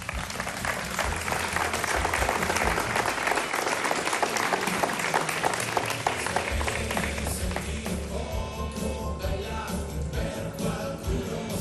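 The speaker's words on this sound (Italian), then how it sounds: "Un applauso, emozionata, che carina." Audience applause at an award ceremony during a televised beauty pageant event in Rubano, Italy, a long, even wash of clapping from a crowd with a low musical hum underneath.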